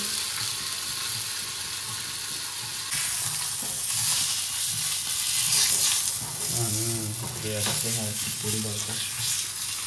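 Chicken pieces fry in a hot pan, crackling and spattering in a loud continuous sizzle close by that swells slightly midway, while a voice talks over it for a few seconds.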